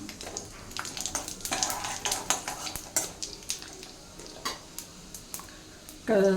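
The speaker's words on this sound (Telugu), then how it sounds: "ఆయిల్ హీట్ అయిందండి ఆవాలు వేస్తున్నాను అలాగే జీలకర్ర వేస్తాను కొద్దిగా మినపప్పు కూడా వేసుకున్నాం అలాగే శనగపప్పు వేస్తున్నాను" Mustard seeds, cumin, urad dal and chana dal fry in hot oil, with repeated clinks of a metal spoon against the pan over a soft sizzle, ending in a louder burst of frying.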